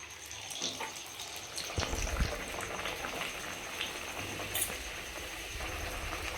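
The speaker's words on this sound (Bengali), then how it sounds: "এবার আমরা এটাকে ছাঁকা তেলে ছেড়ে দিব।" Pea kachori deep frying in hot oil, a steady broadband bubbling hiss close by with a few louder pops and crackles, no talk.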